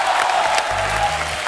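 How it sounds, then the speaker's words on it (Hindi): Loud applause from a television comedy show studio audience, steady broadband clapping throughout with a low musical tone swelling underneath partway through. "जोरदार ताली होने चाहिए."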